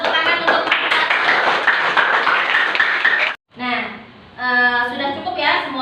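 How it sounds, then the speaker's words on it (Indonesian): Students in a classroom clap together in a dense burst of applause lasting about three seconds, then stop abruptly. Children's voices follow, with chatter and a teacher talking. "beri tepuk tangan untuk"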